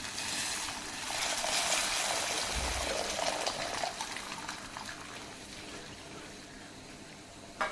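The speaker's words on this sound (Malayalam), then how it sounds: "ഇതിലേക്ക് നമ്മൾ ഒരു നെല്ലിക്കയുടെ വലിപ്പത്തില് ഉള്ള പുളി വെള്ളത്തിലിട്ട് വെച്ചതിന്റെ വെള്ളം ഒഴിച്ചു കൊടുക്കാം." Tamarind water is poured into a pan of Malabar-style chilli tamarind curry, making a soft, continuous splashing gush that fades to a trickle. Faint talk may sit underneath.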